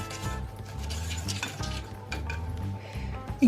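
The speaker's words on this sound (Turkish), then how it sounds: "Bütün kuru malzemeleri bir kaba alıyoruz. Pişirme kabına bir karıştırıyorum." Dry cake ingredients are stirred in a mixing bowl, a steady scraping and clinking of utensil against the bowl running throughout, close and moderately loud, with a brief sharper clink near the end.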